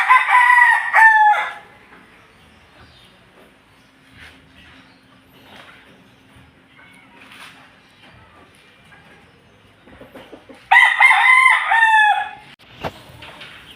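Young roosters (stags) crowing loudly and close, two full crows at the start and near the end, with softer clucks and faint farmyard sounds in the quiet gap between.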